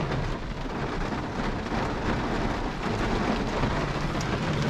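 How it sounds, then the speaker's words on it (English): Steady rain and a thunderstorm beside a river in Vermont in September, a dense continuous broadband roar of rainfall with low rumbling thunder throughout, close and loud with no pauses. "Quite a storm rolled through."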